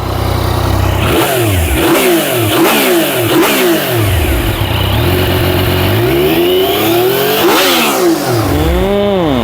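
A 2019 Yamaha XSR900 motorcycle engine with stock exhaust revs hard in several quick bursts, pitch sweeping up and falling back, then one longer rev near the end, loud and close.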